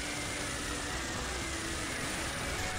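A helicopter in the video game Earth Defense Force 4.1 produces a constant loud whirring engine and rotor drone that stays unbroken and dense from start to end, with no voices over it.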